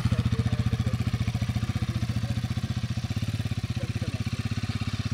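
A Royal Enfield Himalayan motorcycle rolls off-road in first gear at low revs, its single-cylinder thump beating quickly and evenly, close and fairly loud, with no talk.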